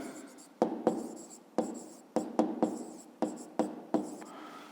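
Pen strokes scratch across paper while a math exercise for a fifth-grade class is written out, a series of about nine sharp nearby taps and scrapes in an uneven rhythm over a soft background hiss.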